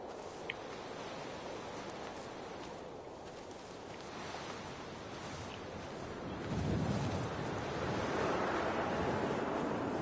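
Windy seaside ambience from the game Dear Esther: steady broadband wind and surf roar with no one speaking, swelling louder after the midpoint as deeper waves rush in.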